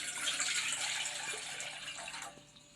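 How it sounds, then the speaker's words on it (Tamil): A cup of water pours into a cooking pot, a soft, faint splashing trickle lasting a couple of seconds before tapering off. "ஃபஸ்ட்டு ஒரு கப்பு தண்ணி சேர்த்துக்கலாம்."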